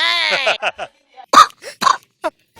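Harsh, bursty coughs from a man in a Telugu comedy sketch, a cluster of short broadband hacks with gaps between them, close and fairly loud, after a brief stretch of voice at the start.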